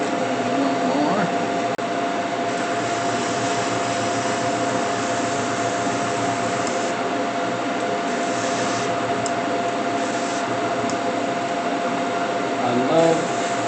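Airbrush spraying Gaahleri Kaleido paint, a steady close hiss of compressed air running continuously, with a faint voice briefly underneath near the start and end.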